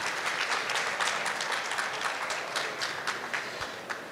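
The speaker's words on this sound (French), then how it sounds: "je voudrais que vous l'applaudissiez" Audience applause at a live event, dense steady clapping from a crowd lasting several seconds and slowly fading.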